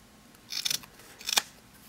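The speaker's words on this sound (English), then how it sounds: "I'm just going to cut some of the edge off here" Scissors trimming the edge off a 1.5-inch felt circle for a burlap hair bow: two short bursts of close, crisp snipping, each a quick cluster of blade cuts separated by a brief pause.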